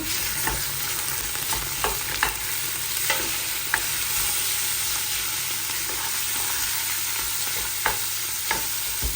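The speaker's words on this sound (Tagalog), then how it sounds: "ilalagay na natin yung giniling natin. Haluin." Ground meat frying in a pan, stirred with a utensil: a steady sizzle runs throughout while sharp scrapes and clicks of the spoon against the pan come at irregular intervals, close and clear, with no talking.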